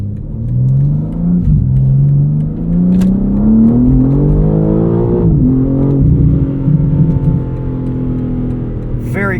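A 2024 BMW M3 CS with xDrive accelerating hard out of a corner at night, engine note climbing steadily through the revs, dipping briefly at a gear change, then pulling again, loud and close from inside the cabin.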